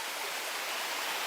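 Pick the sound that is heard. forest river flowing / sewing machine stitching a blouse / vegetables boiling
forest river flowing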